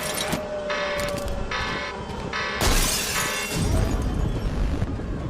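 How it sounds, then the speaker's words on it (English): Loud shattering burst of glass smashed through in the horror game Poppy Playtime, a sharp crash midway over a dense noisy game soundscape with ringing tones. "I rip the red shutters up and I smash the glass to reach for him."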